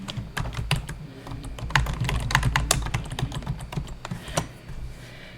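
Rapid typing on a computer keyboard while editing text in Microsoft Publisher, with dense, irregular key clicks running continuously at close range and no talk.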